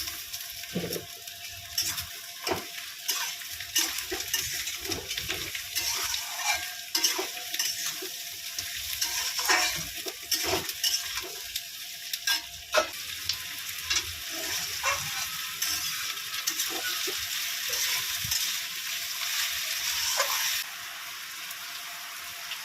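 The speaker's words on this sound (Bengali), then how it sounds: "পেঁয়াজটার সঙ্গে আমি আলুটাও ভেজে নেব।" Potatoes and onions fry in a pan with a steady close sizzle, broken by sharp clicks and scraping knocks as a spoon stirs them at irregular intervals, with no talking.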